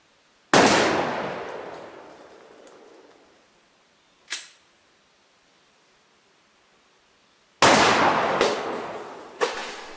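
Remington Wingmaster HD shotgun cartridges fired at sheet-metal targets: two loud, sharp blasts with long decaying echoes, plus a fainter short crack between them and another near the end, with no talking.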